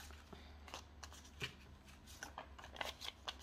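Paper banknotes being folded and handled to fit into budget envelopes, giving soft crinkling and rustling with repeated crisp creases close by, steady throughout and without speech.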